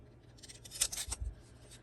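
Scissors cutting around a paper embellishment, a short cluster of close, soft crisp snips and rustles heard alone at low volume.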